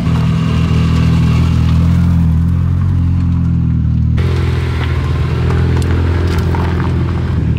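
A Caterham sports car's engine roars loud and close, a steady rumbling drone that shifts abruptly in tone midway as it passes.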